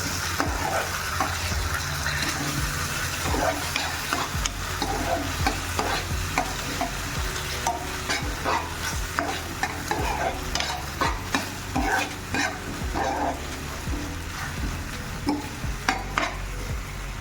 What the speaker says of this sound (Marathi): शेजवान चटणी छान मिक्स करून घ्यायचं